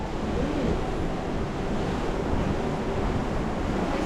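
Ocean waves wash steadily at night beneath the deck of a Disney cruise ship in Singapore, a continuous broadband rush mixed with wind buffeting the microphone, with no voices.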